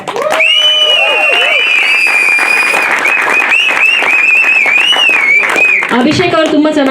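An audience at a press meet for the short film Sigma applauding loudly, with shrill whistles and cheering voices riding over dense, sustained clapping that ends in a burst of shouts.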